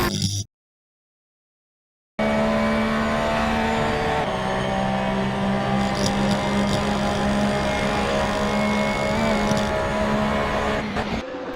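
A car driving on a road in the Assetto Corsa racing sim gives a steady, close engine drone with a whining tone after a brief silent gap at the start.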